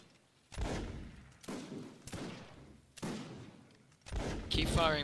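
Musket volleys crack out in a line battle video game, with five or so heavy gunfire bursts at uneven intervals. Each blast is loud and booming with a decaying rumble, and the last ones overlap with talking.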